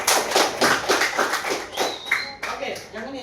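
Children clapping in a classroom, a lively round of applause with sharp rhythmic claps that thin out toward the end, while a voice speaks over it.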